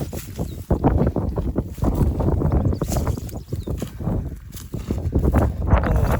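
Cold wind blowing outdoors on a mountain near a hillside plot where cassava is dug, a loud, gusty rumble buffeting the microphone in uneven surges with no break.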